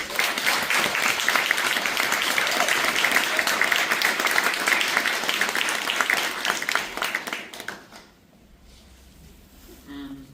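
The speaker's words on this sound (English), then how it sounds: "Another round of applause." An audience applauds after a documentary screening at a mental health week event, steady loud clapping for about eight seconds before it quickly dies away to quiet room tone.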